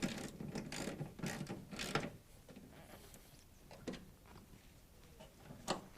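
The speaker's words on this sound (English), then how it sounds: "Let's tighten up our last bolt here." A ratchet wrench tightens the last bolt on a shock tower export brace of a classic Mustang, with a quick series of close clicking strokes and a few later single clicks, quiet and with no talking.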